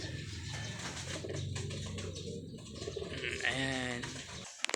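Homing pigeons coo softly and repeatedly during a training release outdoors, with steady background noise and someone speaking in between.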